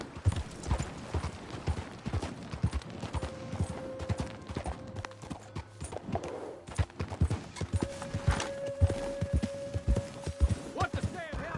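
Horse hooves clip-clop in Red Dead Redemption II, a steady close hoofbeat rhythm running throughout with some mechanical clanks, under a speaking voice.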